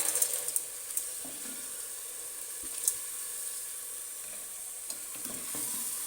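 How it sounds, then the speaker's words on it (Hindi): Red kidney beans (lobia) tipped into golden frying masala and stirred, a steady close sizzle with occasional scraping clinks of the spoon against the pan. "अब मैं इसमें लोबिया ऐड करने लगी हूँ।"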